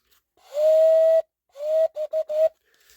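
A polystyrene organ pipe is blown by mouth, giving a breathy, steady whistling tone: one long held note, then a longer note and three short bursts, close and clear with silence between.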